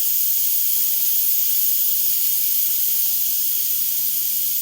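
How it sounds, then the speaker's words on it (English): Steam hisses steadily out of a pot of freshly cooked country style ribs, a constant close, even rush with no break and no voices. "we're just going to let the rest of that steam flow out of here"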